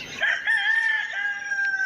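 A Brazilian rooster crows once, close and loud, a long drawn-out call that holds its pitch before trailing off.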